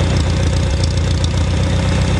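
An engine idles steadily and loudly up close after a stuck choke, a continuous low rumbling throb with no pauses.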